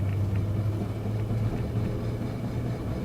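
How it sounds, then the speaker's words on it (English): A manual-transmission car's engine hums with a steady low rumble from inside the cabin while the driver works the clutch and shifts up into third gear, the drone holding fairly even without any clear rev spike. "Clutch in, shift to third, which is straight up, clutch out."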